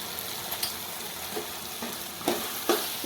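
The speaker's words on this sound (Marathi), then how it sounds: "पुन्हा मिक्स करून घेते हे बघा" Vegetables with a little turmeric stirred in a pan: a soft, steady sizzle runs throughout, with a few brief scraping strokes near the end, fairly quiet and close, without any voices.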